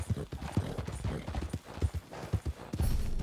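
Horse hooves clip-clopping in Red Dead Redemption 2, a steady close rhythm of hoof strikes with light tack and rustling sounds.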